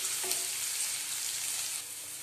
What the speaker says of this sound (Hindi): मैं डालूंगी इसमें सरसों, प्याज। इस तरह मैं इसको हल्का ब्राउन होने तक भूनूंगी।